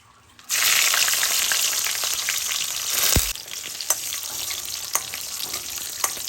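Dried red chillies drop into very hot oil and set off a sudden loud sizzle that settles into steady frying, with a couple of stirring clinks and no speech.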